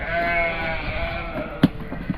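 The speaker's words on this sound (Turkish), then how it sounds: "Kuzuları oğlakları." Lambs and young goats bleat in a village in the Istranca foothills, a steady chorus of overlapping calls close by, with one sharper cry standing out near the end.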